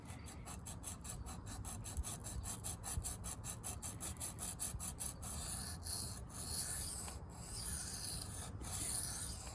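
A Kershaw Trace knife blade being sharpened, rapid rhythmic rasping strokes at close range that settle into slower, longer follow-through passes, no speech.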